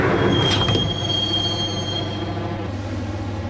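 Subway train running on rails in the game Max Payne, steady rumbling wheels with a brief metallic squeal near the start, continuous and fairly close from inside the car.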